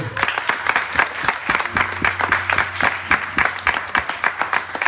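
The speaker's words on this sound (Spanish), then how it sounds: "Dale un aplauso al Rey." A church congregation applauds at a sermon, sharp rhythmic claps close and loud, several seconds of steady clapping with a low tone underneath.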